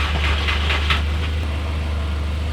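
A VW Golf Mk4 engine idles with a steady, close low drone from the exhaust, a few brief higher bursts near the start and no voices.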